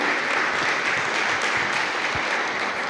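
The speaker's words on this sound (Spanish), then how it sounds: "Dale un aplauso si te va a aplaudir fuertemente al Señor." A church congregation claps loudly and steadily throughout, a dense unbroken wash of applause with no speech.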